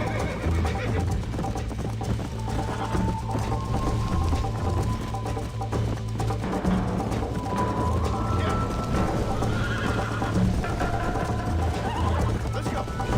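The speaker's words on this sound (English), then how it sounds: "O cavalo correrá mais rápido quando tiver estradas e trilhas." In the Red Dead Redemption video game, a horse gallops along a trail with steady rhythmic hoofbeats and occasional neighing, mixed under game music and a speaking voice.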